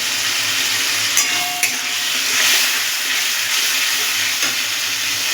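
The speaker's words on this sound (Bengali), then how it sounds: "এবার মশলাটাকে কষাতে থাকবো।" A spice paste of ginger, garlic, chili, cumin and turmeric fries over medium heat, a steady close sizzle with occasional scraping stirs and light clinks.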